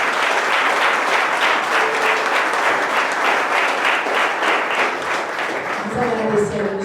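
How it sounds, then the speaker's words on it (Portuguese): A church congregation applauds, loud and sustained rhythmic clapping filling the room, with a voice speaking briefly near the end. "Bem, vamos aplaudir ao Senhor"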